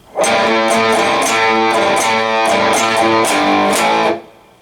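A distorted electric guitar plays a chugging G5 and A5 power-chord riff with rhythmic strums for about four seconds, then rings out.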